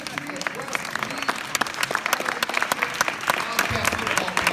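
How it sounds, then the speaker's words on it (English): A banquet crowd claps for the Wildcat football team of the Patriot West League, with sharp individual claps building into a brisk round while voices mingle underneath. "I'd like to give a nice round of applause to our Patriot West League"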